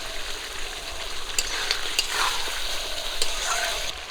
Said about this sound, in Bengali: আলুগুলো দেওয়ার পর আবারও ভালো করে কষিয়ে নেবো মাংসগুলোকে